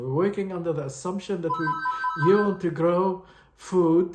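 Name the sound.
telephone ringing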